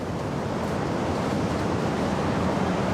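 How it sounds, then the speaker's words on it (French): Strong wind presses against a building's walls, making the partitions vibrate, a dense, steady roaring rush with no pauses throughout. "Les cloisons commencent à vibrer sous la pression frontale du vent"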